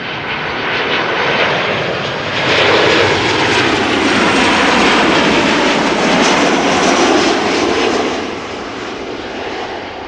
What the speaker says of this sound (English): Tarom from Bucharest, flight 361, 737-800, 2 hours and 39 minutes underway